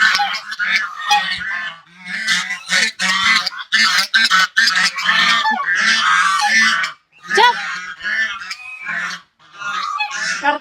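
Ducks crowded in a room honk harshly, a loud, near chorus of grating, overlapping calls that keeps coming in bursts with short gaps.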